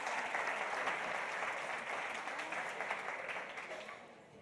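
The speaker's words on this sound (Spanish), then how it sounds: "Fuerte aplauso para ella." Steady applause from a conference audience welcoming a speaker to a panel, a dense even wash of claps at moderate distance that slowly tapers off toward the end.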